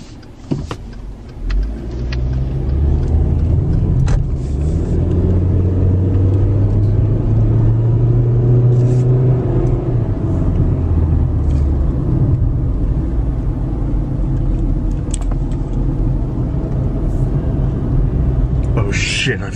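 A car's engine rumbles steadily on a very narrow country road, a continuous low drone that holds loud throughout with slight shifts in pitch as it drives and turns, with a voice talking over it.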